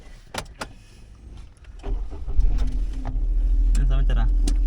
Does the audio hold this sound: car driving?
yes